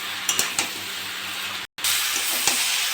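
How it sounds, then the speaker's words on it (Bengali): Spices, salt and chopped tomato sautéing in a pan, a continuous sizzling hiss with occasional stirring knocks and a brief dropout midway, close and with no one talking. "এবার ভালো করে কষে নেব।"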